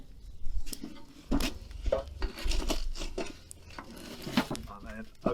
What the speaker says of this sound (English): Now pop the lid on.